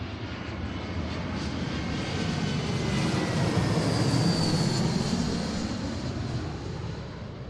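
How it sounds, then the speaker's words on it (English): An American Airlines Airbus A321 jet on arrival approach passes overhead, a loud continuous engine roar that swells toward the middle and eases slightly as it recedes, with no voices. "Another 321, American Airlines from Charlotte."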